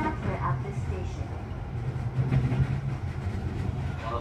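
A Tokyo Metro 10000 series local train runs on the Seibu line toward Kotesashi. Heard from inside the car, it gives a steady, low rumble with faint rail clatter, and a soft voice sounds in the background.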